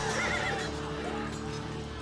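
A war horse neighs in a loud, wavering whinny that fades after the first moment, while faint hoof clops and background ambience continue underneath.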